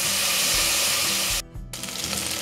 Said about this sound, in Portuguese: E vamos colocar a carne para estar fritando aqui nessa manteiga.